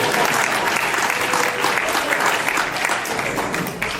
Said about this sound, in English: Feel free to clap if you want